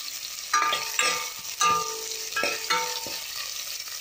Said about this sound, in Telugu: ఆనియన్స్ వేగేయము ఒకసారి.